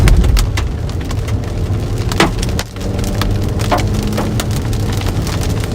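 Hailstones hammer a storm chasing vehicle in a Kansas supercell, a loud, continuous clatter of hard impacts on metal and glass with sharper individual cracks standing out.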